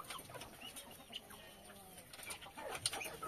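Chickens in a backyard coop give off faint, scattered clucks and soft calls, quiet and somewhat distant over low background noise.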